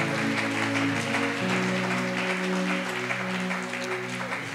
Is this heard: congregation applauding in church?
yes